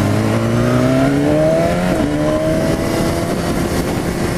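A BMW S1000RR sport motorcycle's engine hums smoothly and loudly at close range while cornering, its pitch climbing gradually and then settling briefly before rising again, with steady wind rush underneath.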